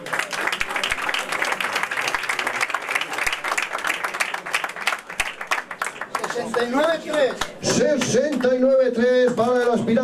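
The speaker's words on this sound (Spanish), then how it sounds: "¡El aplauso!" An audience applauds boxer Fouad El Massoudi at a European super-welterweight championship presentation and weigh-in: dense, steady clapping fills the first six seconds, then fades as a loud announcer's voice takes over.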